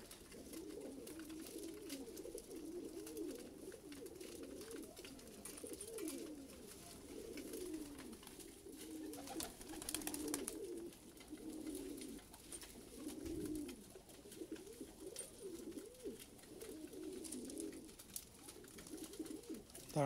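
Pigeons, including a newly hatched pair of young birds, coo on a home rooftop loft, a soft repeated low warbling that rises and falls continuously for the whole stretch, close by and alone, with faint background hiss.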